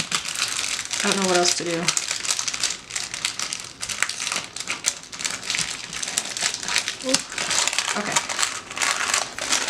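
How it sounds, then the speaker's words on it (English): Paper stickers and packaging crinkle and tear open on a happy mail package, a near, steady crumpling rustle throughout, with someone talking softly over it. "I always feel bad ripping the stickers"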